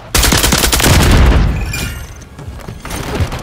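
A grenade blast and bursts of gunfire from Call of Duty: Modern Warfare III, with a heavy loud boom at the start that rolls off into scattered shots and crackling battlefield noise.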